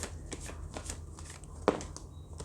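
Tarot cards being shuffled by hand, a soft rapid riffling flutter with one sharper flick as a card drops out, close and fairly quiet, no speech over it.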